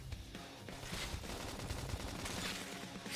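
Rapid bursts of gunfire ring out in the video game Xenoblade Chronicles X, dense, overlapping volleys mixed with game sound effects and music, fairly constant across the short stretch.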